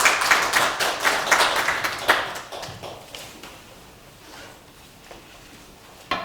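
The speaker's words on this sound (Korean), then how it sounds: "박수로 환영해주시죠" A burst of clapping from a crowd starts loud and gradually thins out, fading to a few scattered claps with quiet between them.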